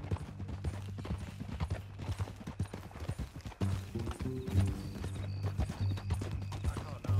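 Steady clip-clopping horse hooves with a low rhythmic rumble, fairly close, over ambient Red Dead Redemption 2 game audio with occasional tonal sounds.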